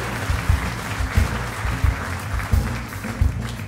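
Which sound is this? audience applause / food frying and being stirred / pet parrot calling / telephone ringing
audience applause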